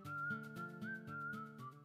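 In the video game Wild Arms 3, a whistle calls the horse: one steady, faint tone that holds for about two seconds over a low, pulsing game soundtrack, with no speech.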